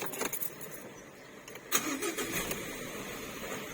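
A 2019 Ford Ranger Wildtrak pickup engine cranks briefly and catches, settling into a steady idle, after a few faint clicks of a key being handled nearby.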